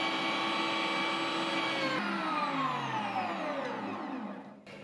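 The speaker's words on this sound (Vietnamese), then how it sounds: "Nếu như mà mình có máy xay thì sẽ sử dụng cái kích cỡ là 4mm." A meat grinder fitted with a 4 mm plate mincing cold pork runs as a steady, loud motor whine with many bright harmonics. Its pitch sags gradually as the load changes, then the grinder winds down near the end, with no talking.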